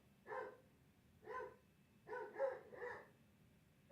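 A dog barks indoors in a quick series of about five barks, two single ones spaced apart then three in a row, fairly faint and slightly distant against a quiet room, with no one talking.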